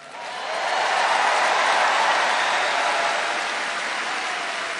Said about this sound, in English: Damn, this is a big crowd.